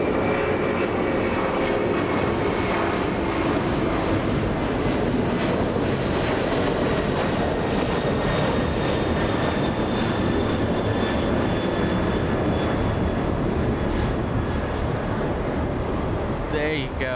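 An airliner departs from runway 25 right at LAX, its steady, loud engine roar filling the whole stretch without a break, with faint talk in the background.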